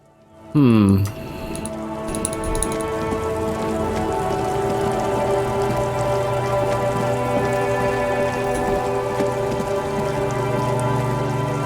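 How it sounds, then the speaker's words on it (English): Steady rain falls in the video game Disco Elysium, a constant close hiss of drops on surfaces that begins after a short loud burst and continues evenly throughout. "It's raining again."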